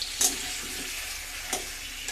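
Potatoes fry in mustard oil for biryani, a faint, soft, steady sizzle close by with a couple of brief louder spatters.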